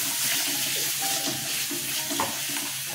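Katla fish curry sizzles and bubbles in a pan as a paste of sour yogurt, cashew and raisin goes in, with soft stirring scrapes over a steady close frying hiss.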